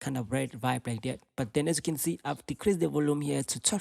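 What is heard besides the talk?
No everyday noise stands out behind the speech.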